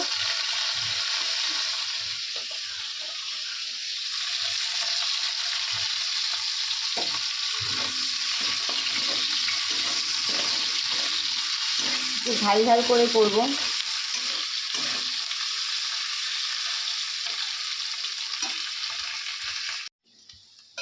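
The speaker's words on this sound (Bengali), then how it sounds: "পেঁয়াজটা প্রায় ভাজা ভাজা হয়ে গেছে তো আমি শুটকি মাছটা দিয়ে দেবো" Onions and dried fish fry in oil with a steady, fairly quiet sizzling hiss throughout, one brief burst of stirring clatter midway, and someone speaking briefly over it.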